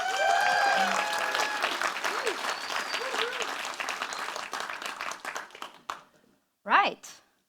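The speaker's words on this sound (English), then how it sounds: "a massive round of applause" A conference audience applauds loudly, the clapping thinning out and fading over several seconds before a brief burst of voices.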